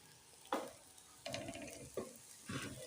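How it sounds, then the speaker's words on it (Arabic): Rice frying in fat in a cooking pot for Alexandrian koshari, stirred in four short, scraping strokes over a soft, steady sizzle, close and fairly quiet. "زي ما تكون كده بتتحمر معاكي وبتخف كده في ايدك وانت بتقلبي"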